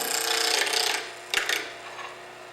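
A wooden piece is cut down on a lathe: a faint, rough scraping of the tool against spinning wood, steady for a second, then a brief sharp catch and lighter rasping as the cut continues.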